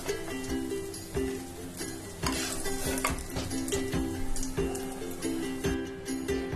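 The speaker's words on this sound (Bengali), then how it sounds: "ফোড়নটাকে 2-3 মিনিট একটু নাড়াচাড়া করে নিয়েছি" Nigella seeds and slit green chilies tempering in hot oil left from frying eggplant, a steady sizzle under repeated scraping and clinking of a spatula against the pan.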